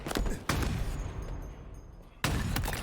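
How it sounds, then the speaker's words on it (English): Sniper rifle fire in a competitive video game match, with two loud sharp blasts near the start and a third after a quiet gap, each ringing out over background game noise. "Sniper rifle in the hands of Shaady. Knows exactly what to do with it"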